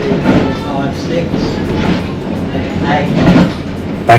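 A 3-foot-6 gauge railway engine built by Dubs & Co for the Emu Bay Railway Company, at Don River Railway, rumbling close and loud with rhythmic clickety-clack of wheels and rolling carriages.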